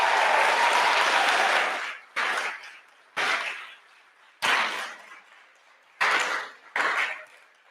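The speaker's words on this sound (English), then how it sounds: "How about another round of applause for all 5 of our friends?" Audience at a startup pitch night applauds all five presenters: a long sustained round of clapping, then several short separate bursts with quiet gaps between, moderately distant in a hall.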